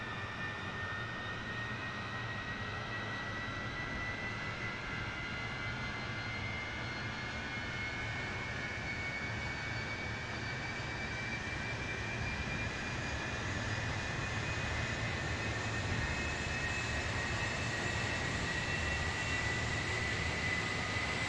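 Number 3 jet engine of a Concorde in Microsoft Flight Simulator spooling up, a steady loud roar with a rising turbine whine that climbs in pitch over about twenty seconds, no voices.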